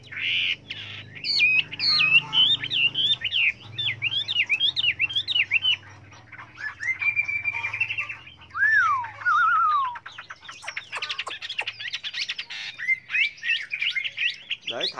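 Chinese hwamei songbird singing close by, a loud run of rapid warbling, sweeping whistled phrases and chattering trills broken by brief pauses, with no talk.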